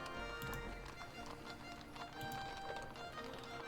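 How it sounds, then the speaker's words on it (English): A troop of horse artillery moves in a Battle of Waterloo and Wavre war game, with steady, moderately faint clip-clop hoofbeats blended with rumbling movement and background noise. "I am going to pack up Mercer's troop of horse guns and move them."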